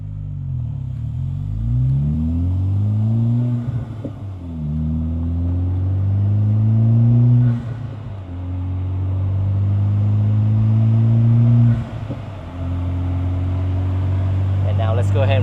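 A 2024 Acura Integra Type-S with an A'PEXi N1-X catback valved exhaust in comfort mode accelerates through several gears, each pull rising in pitch then dropping at the shift, a muted, moderately loud rumble with no talk.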